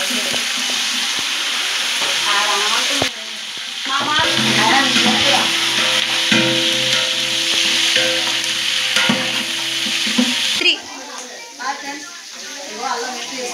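Green chillies and ginger sizzle steadily in a hot pan, with scraping stirring strokes over the frying noise and a person talking nearby.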